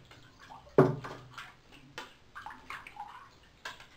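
A giant wooden Bass Oreno knockoff fishing plug sloshing and splashing on the water surface, making one sharp close splash followed by several lighter irregular plops and ripples.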